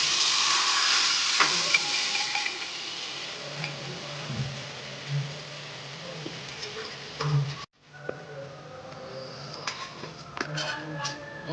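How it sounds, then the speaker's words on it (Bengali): Boiled potatoes and peas for ghugni go into a hot pan, with a continuous sizzle and hiss, scattered clicks and a short clatter, then frying resumes after a brief gap. "এবার এটাকে এটার সঙ্গে ঢেলে দেবে"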